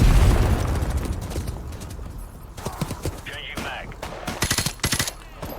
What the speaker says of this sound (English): Shooting through some of the wooden crates now.